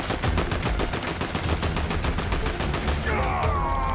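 Rapid automatic gunfire rattles in the Fortnite video game, dense continuous bursts close and loud for the whole stretch.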